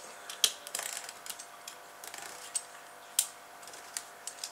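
A craft knife drawn across card on a cutting mat makes faint, scratchy strokes broken by sharp little clicks and ticks, close and quiet, with no voice over it.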